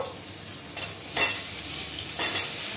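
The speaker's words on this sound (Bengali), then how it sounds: "এবার আমরা কড়াইয়ের মধ্যে দিয়ে দিচ্ছি একে একে কেটে রাখা কুমড়ো" Cut pumpkin pieces tipped into a hot wok and stir-fried for a Bengali potato, pumpkin and drumstick curry, giving a steady soft sizzle broken by a few brief scraping stirs, close and fairly quiet.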